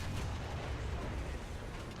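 A tank shell explodes in the War Thunder video game, striking a T-64 tank, heard as a dense, sustained low rumbling roar that fills the whole moment with no voices over it.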